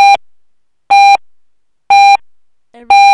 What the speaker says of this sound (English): It's so loud in my ear that every time it beep, it makes me blink.